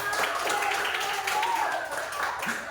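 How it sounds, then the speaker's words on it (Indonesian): Hand clapping in a classroom lesson, quick rhythmic claps close by mixed with children's voices and chatter. "Oh, tepuk tangan."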